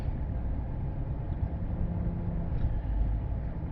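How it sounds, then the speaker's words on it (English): A GM truck with an 8L90/6L80 automatic transmission runs with a steady low engine drone, moderately loud, as revs hold and the gearbox shifts, no voices over it. "It's shifting again. RPM will go up and then it'll shift."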